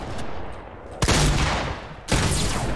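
Fortnite gunshots, two loud sharp blasts about a second apart with a ringing tail after each, over a steady hum of game noise.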